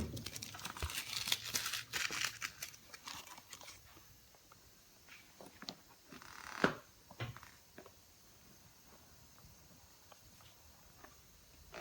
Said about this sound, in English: Let's remove that masking tape